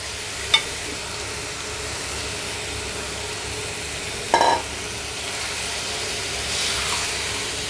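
Ivy gourd pieces dropped into hot oil in a pan give a steady, soft sizzling hiss, broken by a couple of brief clatters of utensil or pan.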